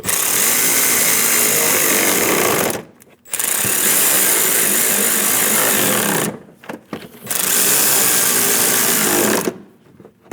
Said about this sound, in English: Snug down the bolts.